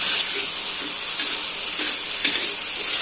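Bamboo shoots and vegetables for sayur lodeh sauté in a pan over low heat, giving a steady close sizzling hiss with faint scraping stir strokes scattered throughout.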